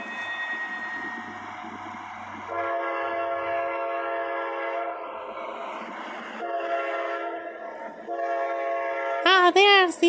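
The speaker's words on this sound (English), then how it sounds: "Ah, there's the Amtrak." An Amtrak train passes with long, loud horn blasts sounding several times over a rumbling rail background. A sharp, shifting whistle-like tone rises near the end.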